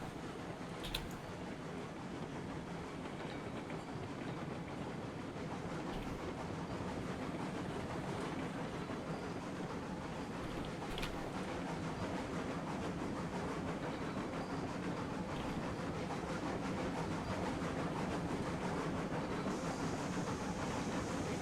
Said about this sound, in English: So we got a proper little train here.